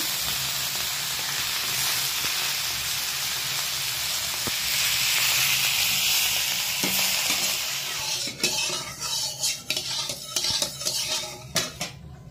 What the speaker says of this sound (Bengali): মশলা চিংড়িটা কিন্তু আমি ভালোভাবে ভেজে নিচ্ছি।